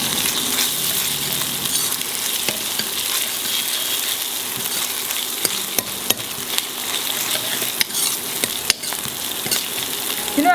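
Grated ginger sautéing in a hot pan for lemon coriander soup: a steady, fairly loud hiss of frying with occasional sharp clicks and taps of a utensil against the pan, no talking.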